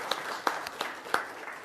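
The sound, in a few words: applause at council meeting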